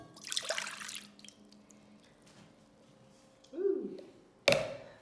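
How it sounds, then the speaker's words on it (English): Frothy, bubbly yeast water is poured into a bowl holding one large egg for bagel dough, making a short, wet, sloshing pour close by, followed moments later by a sharp clunk. "I'm going to add in my now very frothy and bubbly"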